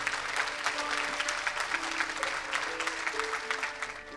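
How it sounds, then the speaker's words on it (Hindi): An audience in a hall applauds after a classical music performance, with dense, sustained clapping throughout and a faint tonal sound faintly audible beneath it. "हर परफॉर्मेंस पर हॉल तालियों से गूंज उठा।"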